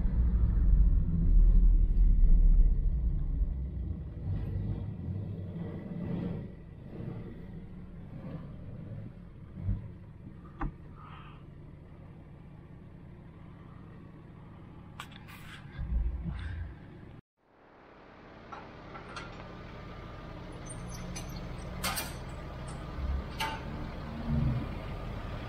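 A 1984 Chevrolet Opala 250S rumbles while driving, a steady low engine drone heard from inside the car, dropping to near silence midway before the engine note returns more faintly.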